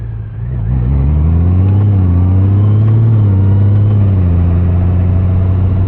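A Honda Goldwing motorcycle with a DCT gearbox, ridden in eco mode, its engine droning loudly and steadily up close, pitch rising and dropping as it shifts up through the gears.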